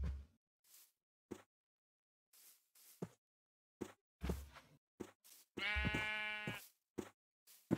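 A single clear Minecraft sheep bleat rings out near the end, a wavering nasal cry, after scattered short clicks and taps amid quiet gaps.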